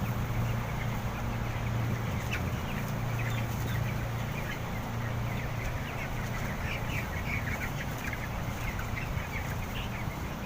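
Chickens raised in very cold weather cluck and call amid a constant dense background of noise, their short clucks scattered faintly throughout with no clear pause.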